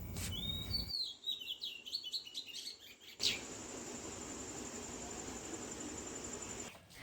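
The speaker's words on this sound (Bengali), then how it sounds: "মিষ্টি এই পাখিটার আওয়াজ শুনতে পেলাম" A small bird chirps at dawn in quick, bright bursts over the first few seconds, followed by a steady outdoor hiss with a faint call near the end.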